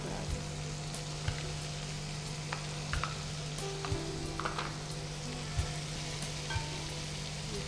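Capsicum and masala fry in a pan with a low, steady sizzle, soft and fairly quiet, broken by occasional light taps and stirring clicks.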